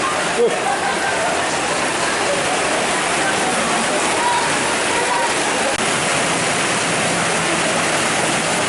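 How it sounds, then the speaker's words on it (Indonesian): Rain falls steadily as an unbroken, moderately loud hiss of drops that holds even from start to finish, with no clear voices over it. "Hujan-hujan guys."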